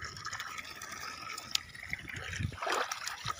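Muddy water drains out of a freshly cleaned water tank as a soft, steady trickle and gurgle, fairly faint and continuous throughout.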